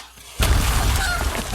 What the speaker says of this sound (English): That's the sound of a bird sparking and exploding.